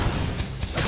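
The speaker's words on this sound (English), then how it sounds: "Flame grenade!" A flame grenade going off in the sci-fi combat game Xenoblade Chronicles X, a brief, loud low-end smash with a blunt crack, no voices during it.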